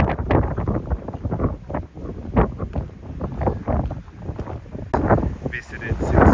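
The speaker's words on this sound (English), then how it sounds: "It's almost so windy that I'm worried about the gimbal" Strong gusts buffet the microphone on an early walk through Tokyo's Futakotamagawa area, a steady rumbling roar that rises and falls beneath close-up talking throughout.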